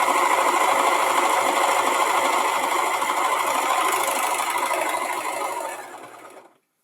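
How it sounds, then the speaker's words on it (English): Serger stitching a rolled hem, a fast, steady mechanical whir running close and continuous for several seconds before trailing off and stopping. "we're going to serge that. We're just going to do our rolled hem"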